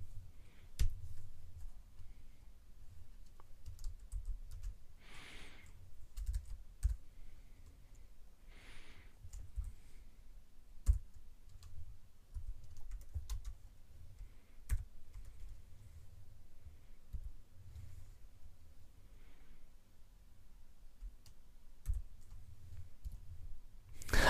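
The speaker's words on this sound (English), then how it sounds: "So pay attention to the keystrokes." Keystrokes on a computer keyboard while editing text in Emacs, a steady run of quick, soft clicks with short pauses, fairly close and quiet over a low background hum, no talking.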